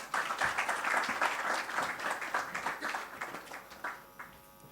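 Audience applause at a press launch for the 3i Africa Summit 2024, a dense burst of many hands clapping that stays steady before gradually thinning and fading out, with no talking over it.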